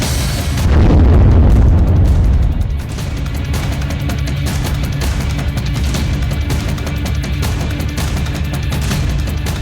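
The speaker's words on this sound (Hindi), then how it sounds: "यूक्रेन के इलाके में एक धमाका।" A drone strikes the Chernobyl nuclear plant in Ukraine, setting off a sudden heavy boom that rolls out for about two seconds before settling into a lower, steady rumble.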